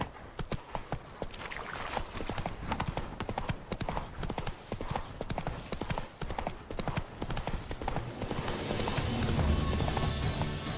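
Roach, the horse in the video game Witcher 3, galloping with steady rapid hoofbeats on a dirt path, close and loud, with game ambience swelling near the end.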